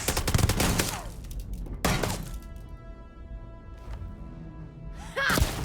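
Gunshots and impact crashes ring out in Starfield, a few sharp bursts near and loud with a lingering tail between them, while someone speaks briefly.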